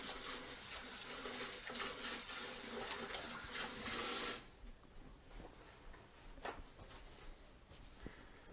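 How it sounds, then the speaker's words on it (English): Kitchen tap runs steadily for handwashing, a broad close hiss that cuts off abruptly partway through, leaving faint clicks and small handling sounds. "Wash my hands again."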